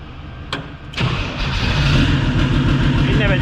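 An OM606 turbodiesel in a Nissan 200SX S14 race car cranks and catches, then settles into a loud, close, rough idle with a steady rattling clatter.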